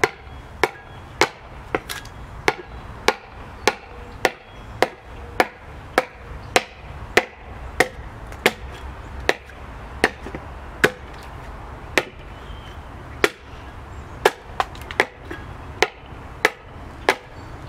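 A hatchet hewing a wooden panel: sharp, close chopping strikes that land in a steady, fairly even rhythm, about two per second, over a low background rumble, with no talk.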